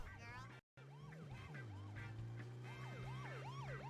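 Police car siren in a video game, a wailing tone sweeping up and down repeatedly over a steady engine drone, briefly cut out near the start and then continuing without talk.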